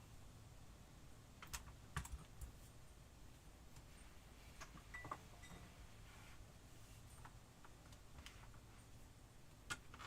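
Quiet typing on a computer keyboard, with irregular bursts of soft clicks and occasional louder key taps spread over several seconds, close and alone in a still room.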